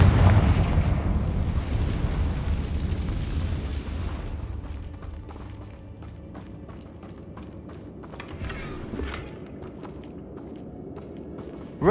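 Confringo fire-blast spell going off in Hogwarts Legacy, a heavy, loud boom right at the start that rolls out into a long, rumbling decay, followed by scattered crackles and light debris sounds.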